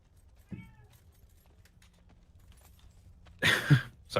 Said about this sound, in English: I hear meowing in the background.